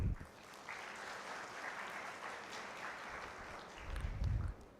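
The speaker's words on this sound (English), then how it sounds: "Let's applaud SAE India" An audience at an SAE India drone development challenge event applauds, the clapping a sustained, moderately distant wash of many hands that swells briefly near the end.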